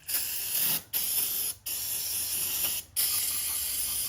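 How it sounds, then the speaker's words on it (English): Brake cleaner sprayed onto the inside of a transmission from a 403ci small block Trans Am, four forceful hissing aerosol bursts separated by short gaps, close and loud with no talking. "But first, we'll brake clean off that entire inside. All right, let's give her a nice old spritz."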